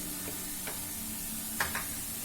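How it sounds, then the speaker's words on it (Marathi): Chopped onions and green chillies sautéing in oil, a quiet steady sizzle with a few soft spoon-stirring scrapes. "कांद्याला थोडं आपण ट्रान्सपरंट होईपर्यंत परतून घेणार आहोत"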